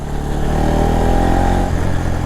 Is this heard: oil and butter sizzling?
no